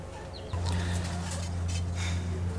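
Black prominal porter pigeons at a pigeon farm in Natore, a steady low cooing drone starting after a brief quiet moment and continuing close and fairly loud, with faint chirps above.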